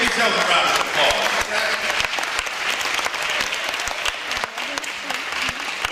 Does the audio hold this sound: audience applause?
yes